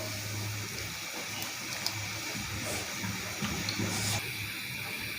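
Cut potatoes drop into boiling water in a wok, giving a continuous bubbling and hissing wash with a few splashy bursts, close and fairly loud.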